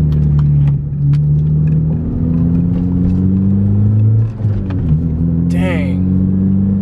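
A car with manual transmission detent springs fitted accelerates loudly from inside the cabin, the engine note rising and dropping with shifts and a downshift, while someone talks over it.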